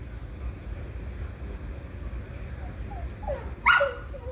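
A pet dog gives a short burst of yips and a whimper near the end, heard over steady low room noise and a faint background hum, with no talking during the sounds.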